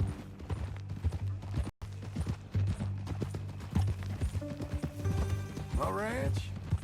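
Horse hooves clip-clopping in Red Dead Redemption 2, a steady rhythmic run of hoof strikes beneath conversation between characters, with a brief whinny-like sweep near the end and a short dropout early on.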